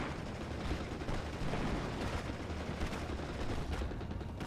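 Sustained gunfire from a firefight between two buildings in the World War II strategy game Steel Division: Normandy 44, a dense, continuous crackle of distant rifle and machine-gun shots with no pauses.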